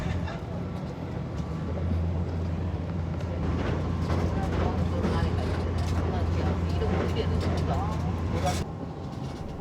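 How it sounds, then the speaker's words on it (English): A small train running in Japan, a steady low rumble with a sustained hum throughout, muffled clatter and voices mixed in, fading near the end. "Oh, it's a little train."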